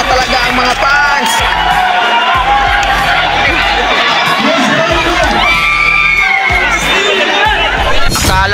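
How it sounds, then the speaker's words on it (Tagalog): Basketball fans at an open community game cheer and shout loudly, a dense roaring crowd with children's yells and whoops filling the space, with voices chattering throughout. "Napatayo at napasigaw-sigaw na talaga ang mga fans."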